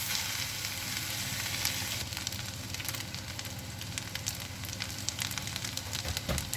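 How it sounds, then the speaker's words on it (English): Vegetarian sukiyaki noodles fry in a wok with a dense, continuous sizzle and crackle, while tossing adds scattered scrapes and clatters throughout, close and fairly quiet. "The noodles have been tossing and cooking for about 2 minutes."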